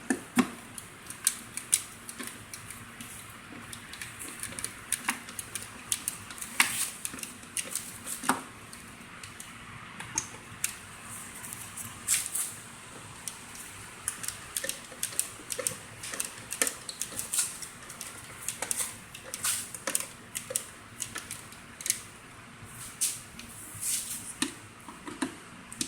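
Quiet clicks and ratcheting of screws being driven back into the air filter housing of a 2007 Mercedes-Benz C230, with irregular small metallic ticks and scrapes spread over nearly half a minute, close and faint, with no talking.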